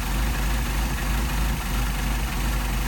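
Car engine with a Solex carburetor idling steadily around 600 RPM while the mixture screw is adjusted, a loud, close, even low rumble with no talk over it.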